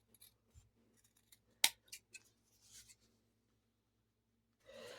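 Scissors trim fabric close to a zigzag stitch, making a few quiet, sparse snips and rubs with near-silence between them. A sharp, louder snip comes near the middle, and soft rustling follows at the end.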